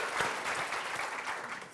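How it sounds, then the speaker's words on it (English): Audience applause at a keynote luncheon, a steady wash of clapping from a seated crowd that holds at an even level for under two seconds, with no speech over it. "Let's give them a round of applause."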